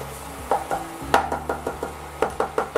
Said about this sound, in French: et je vais cuire mon roux.